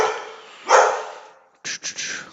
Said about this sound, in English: got a barking dog